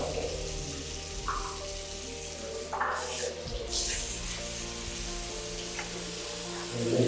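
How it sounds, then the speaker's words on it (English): Steady running water pours from a tap in a school washroom, a continuous hiss with small clatters and shifts in the flow. "Here also we have running water."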